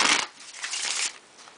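Cards being shuffled close up, a crisp riffle followed by a longer rustling cascade as the deck is bridged back together.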